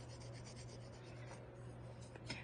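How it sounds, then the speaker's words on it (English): Quiet, repeated rubbing strokes of sanding against a small polymer clay piece, soft and close, over a faint low hum. "I'll finish sanding and of course sand around this bottom guy like so."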